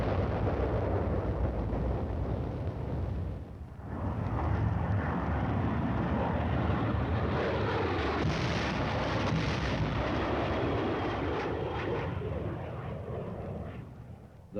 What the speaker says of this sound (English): The deadly napalm is dropped in a veritable blanket of destruction over the enemy's position